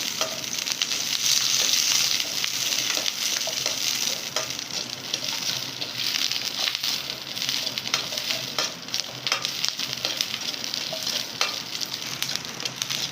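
Garlic sautés in a pan for kali, a continuous bright sizzle with scattered soft scrapes and clicks of stirring throughout, steady and fairly close.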